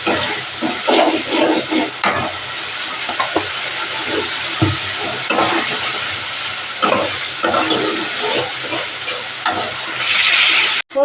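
Spice paste with a little sugar sizzles and hisses in a pan as a spoon stirs it in repeated scraping strokes, a dense close frying sound without voices.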